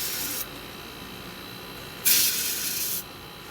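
Two bursts of R141B refrigerant spraying through a cake chiller during flushing, a steady hiss at first and then a louder one about a second long, with quiet room noise between them.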